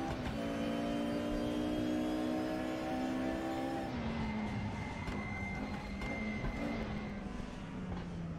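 A 1992 DTM Mercedes 190E race car in RaceRoom Racing Experience drones along at steady revs, then its engine pitch drops and winds down as it slows into the pits.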